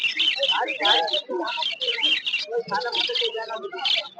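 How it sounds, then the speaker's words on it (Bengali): Finches at a busy outdoor bird market chirp in dense, overlapping bursts, with someone talking through much of it. "প্রচুর ফিন্স আছে এখানে"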